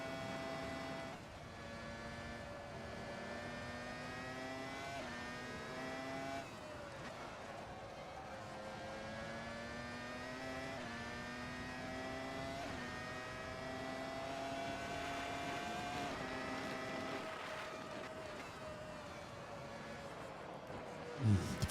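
A 1999 Formula One car in the Assetto Corsa racing game screams along at high revs, its engine pitch rising and dipping through gear changes and corners in a continuous, fairly faint whine.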